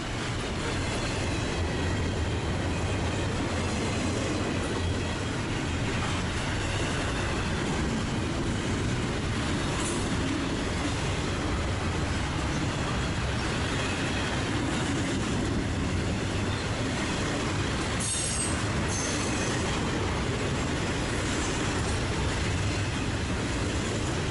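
A CSX Dash 8 diesel locomotive hauls an intermodal freight train past at Pennington on the Trenton Subdivision, a steady, continuous rumble and wheel roar with faint squeals and clanks throughout.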